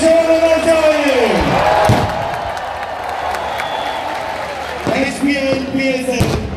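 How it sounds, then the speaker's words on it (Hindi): Crowd noise at a packed cricket stadium in Karachi during a PSL final, a broad roar of applause and shouting with a loud voice over a PA at the start and again near the end. "PCB के लिए भरपूर तालियां और शोर होना चाहिए।"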